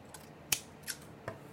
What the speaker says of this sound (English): you're going to cut you another piece of line